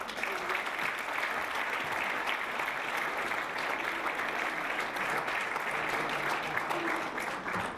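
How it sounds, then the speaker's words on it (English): Dense, sustained applause from a gala audience at a chamber of commerce awards banquet, steady and loud for the whole stretch without a break. "One more round of applause for School of Rock"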